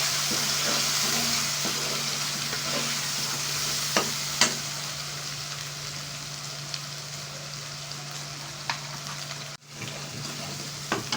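Chicken chana masala with turmeric and red chilli is stirred in a pan, giving a steady sizzling fry with a constant hum beneath and scattered scrapes of the spoon against the metal, with no talk.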